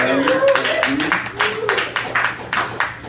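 Audience applause at an open mic night, a loose patter of scattered hand claps from a small crowd, fairly close, mixed with voices talking and calling out over it.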